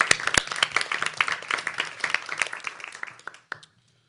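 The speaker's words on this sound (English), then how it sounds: "So if we give him a quick round of applause." A quick round of applause at a board meeting, dense clapping from a room of people that builds and fades out after about three and a half seconds.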